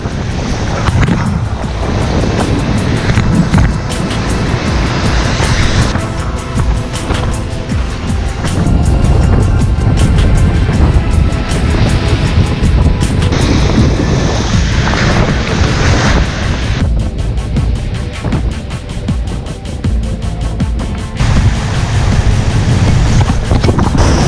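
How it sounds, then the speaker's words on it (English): Strong winter wind on the coast while sea fishing buffets the microphone in a loud, continuous rumble that swells and eases in gusts, with water sloshing underneath. "It's quite windy where I am, but out there it's really windy."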